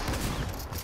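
A dense, rapid burst of gunfire in the video game Fortnite fills the whole brief moment at a steady, loud level.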